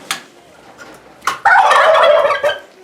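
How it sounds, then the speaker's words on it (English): Turkeys gobble inside a barn: a sharp call opens, another follows near the middle, then a loud, sustained burst of overlapping gobbling from a close flock fills the rest. "I think the turkeys are going stir crazy because they want out."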